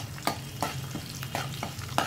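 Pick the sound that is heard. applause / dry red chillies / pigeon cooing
dry red chillies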